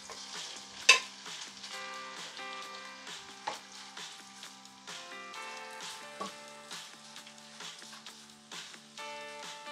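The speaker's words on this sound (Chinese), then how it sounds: "咁一放啲虾仁落煎煎先" Shrimp meat is pan-fried over high heat in a wok with two tablespoons of oil: a close, fairly quiet sizzle with clicks and light scraping, one sharp knock early on, and a tonal background running throughout.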